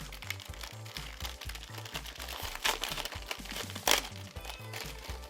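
A plastic Lego minifigure blind bag is torn and crinkled open up close, its crackling rustles rising in short bursts over a steady rhythmic musical beat in the background.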